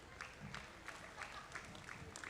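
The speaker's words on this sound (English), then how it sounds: "Let's give our pair of Guernsey heifers a big round of applause." Applause from a livestock show crowd for a pair of Guernsey heifers at a county fair, a quiet, steady patter of clapping with soft rhythmic bursts throughout.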